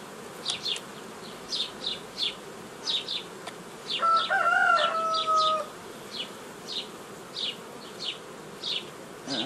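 Honey bees droning inside an opened hive during colony inspection at an apiary, a steady close buzz with repeated louder bursts and a brief higher whine midway, no voices.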